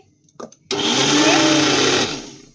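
Mustard seeds are ground into a paste in a kitchen mixer grinder: after a couple of quick clicks, the motor bursts into a loud, steady whir for about a second and a half, then winds down.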